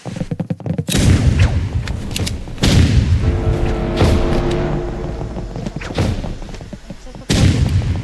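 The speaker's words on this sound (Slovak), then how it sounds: "Kamo, sme tam granáty dali." Video game grenade explosions: several heavy booming blasts, with a big burst near the start, another a couple of seconds later and a final one at the end, over continuous game noise and rumble.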